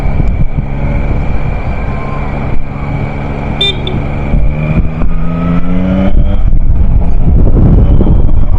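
A 2024 Yamaha MT-09 motorcycle engine accelerates in second gear, its tone rising steadily and growing louder over wind rush.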